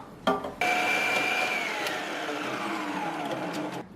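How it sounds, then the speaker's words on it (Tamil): Preethi Zodiac mixer grinder running with its slicing blade to cut vegetables, a steady loud motor whine with a brief start-up burst and a slowly falling pitch, no talk. "இப்போ இந்த பிளேடை போட்டு நம்ம அதே மாதிரியே ஸ்லைசிங்க்கு யூஸ் பண்ணிக்கலாம் வெஜிடபிள்ஸ் வச்சு கட் பண்ணி பார்க்கலாம்"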